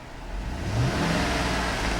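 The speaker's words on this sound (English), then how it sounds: "I'm going to rev the engine." The 6.2 liter V8 of a silver 2013 Cadillac Escalade ESV AWD revs up from idle, a close, loud, smooth engine rise that holds steady with no talking.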